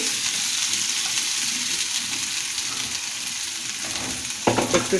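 Potato pieces fry on a stovetop for a beef dish, giving a loud, steady, close sizzle that runs throughout, with a brief clatter of stirring near the end.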